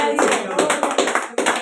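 Rhythmic hand clapping by a preacher during a sermon, about five sharp claps in a slow, even beat, close and loud in a reverberant room.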